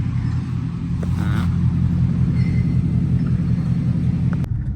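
A car drives along the road toward a college, its engine giving a steady low rumble throughout, with faint passing noise on top and a brief sharp knock near the end.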